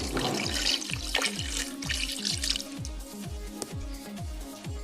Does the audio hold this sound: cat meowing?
no